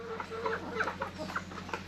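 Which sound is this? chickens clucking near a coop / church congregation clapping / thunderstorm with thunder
chickens clucking near a coop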